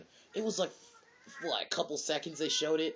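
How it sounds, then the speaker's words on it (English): A pet cat wails and meows loudly in the background, its drawn-out cries tangled with a person's speech throughout. "If you hear wailing in the background, it's my cat."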